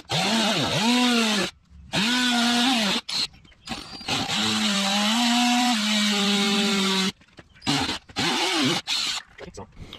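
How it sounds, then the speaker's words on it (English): Power drill boring holes for a homemade deep sea pipe jig, whining in several loud bursts of rising and falling pitch separated by short pauses, close to the mic. "Ready to drill out."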